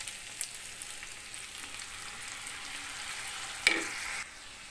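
Four green chillies and soy sauce fry in a pan for chilli chicken, giving a steady, fairly quiet sizzle with one sharp clink and a brief louder hiss near the end.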